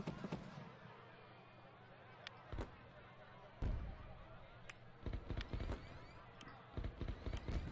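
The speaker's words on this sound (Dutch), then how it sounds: "Nou, gaan we beginnen met vuurwerk." Fireworks burst in Rollercoaster Tycoon 3, sounding as scattered faint pops and booms against a quiet background, some in quick clusters.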